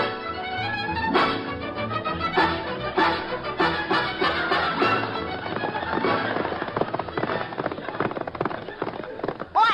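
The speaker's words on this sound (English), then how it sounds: "Come on, Jerry, let's get on our own horses and get moving" Radio show sound effect of horses galloping, a quick rhythmic clatter of hoofbeats that builds into a dense, loud run, with a voice calling out briefly.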